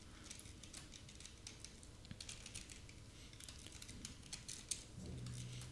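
Computer keyboard typing as code is entered, a steady run of light, close key clicks continuing for several seconds with no talk over it.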